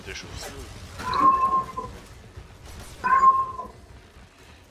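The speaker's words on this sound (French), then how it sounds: "J'aime bien les miaulements." Cat meows, likely from a game character, sound twice at moderate volume amid player talk during an online Warframe gameplay session.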